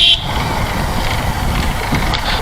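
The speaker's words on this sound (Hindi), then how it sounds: "जो बाइक से साउंड आ रहा है" A motorbike engine runs while riding over a rough road in Muzaffarpur, a steady close rumble with bumpy rattling and no talking.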